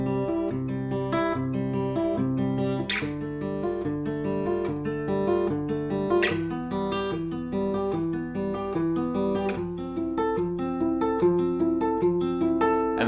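Acoustic guitar picked fingerstyle over open chords, no barre shapes, a steady rolling pattern of plucked notes with bass notes alternating beneath, close and moderately loud, no voices.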